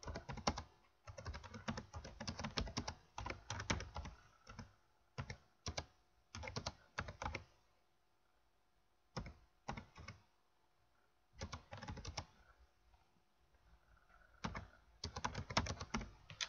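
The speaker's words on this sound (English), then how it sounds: "I'm just going to type out a message box." Code being typed on a computer keyboard, close bursts of rapid key clicks separated by short pauses, with no talk over it.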